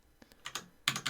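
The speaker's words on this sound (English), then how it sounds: "I was typing in the wrong keyboard" Keystrokes on a computer keyboard during app development work, a short burst of several clicky taps, one soft tap then clustered quicker presses, close and fairly quiet, with no talking.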